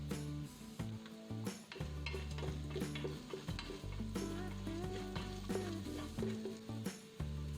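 Ginger, garlic, turmeric, chili powder and garam masala fry in a pressure cooker with a steady sizzle, while a spoon scrapes and clinks against the pot throughout. A music bed plays underneath.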